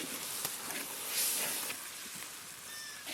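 Onion with ginger and garlic paste fries in a pan for a village mutton curry, giving a steady, fairly loud sizzling hiss with small crackles throughout and no talking.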